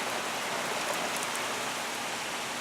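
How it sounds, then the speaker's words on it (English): Steady rain falling outdoors, an even hiss of drops with no breaks, moderately faint and heard from indoors. "That's been raining pretty good."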